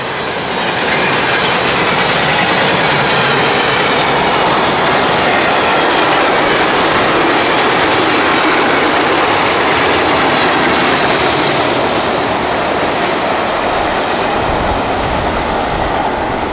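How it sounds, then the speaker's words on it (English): A heavy CSX freight train rolls past nearby, a loud, continuous roar of rattling cars and wheels on rails sustained throughout with no voices. "Big heavy old freight train right there."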